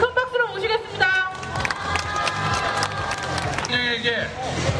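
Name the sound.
applause welcoming a speaker at a rally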